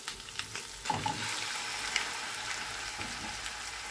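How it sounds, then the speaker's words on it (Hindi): Minced meat frying in a pan, a steady bright sizzle with occasional crackles and the scrape of stirring, close and continuous with no talk. "अब हम कीमे को तकरीबन 2 से 3 मिनट के लिए भून लेंगे।"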